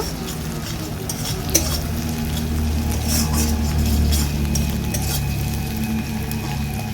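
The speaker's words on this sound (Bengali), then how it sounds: "পেঁয়াজ রসুনটাকে বেশ কিছু নেড়েচেড়ে নেওয়ার পরে আমি এতে আদা বাটাটা দিয়ে দিচ্ছি, মিশিয়ে নেব।" Ginger paste stirred into onion and garlic frying in a pan for egg masala curry: a continuous sizzle with a scraping stir and a single sharp clink of a utensil against the pan, no talking.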